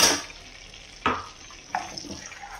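Whole spices such as shahi jeera and bay leaf stir and fry in hot oil in a pan: a soft steady sizzle broken by a few sharp scraping strokes of a spoon against the pot, fairly quiet and without talk.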